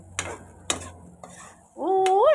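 Dry vegetarian suki being stir-fried in a pan: three distinct scraping strokes of a utensil against the pan, close and fairly quiet, followed near the end by a steady, louder tonal sound.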